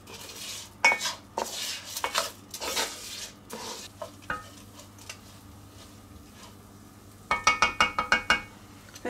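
Risotto rice and turkey being stirred in a pan with a spoon, scraping and clinking in bursts with a faint sizzle underneath and a quick run of rhythmic taps near the end, close, with no talking.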